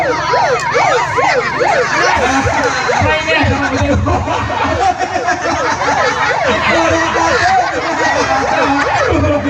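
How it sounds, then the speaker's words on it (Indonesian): A wailing ambulance siren sweeps up and down continuously, loud and close, over street traffic and a background murmur of voices at an Indonesian Independence Day event. "Wih, ambulan."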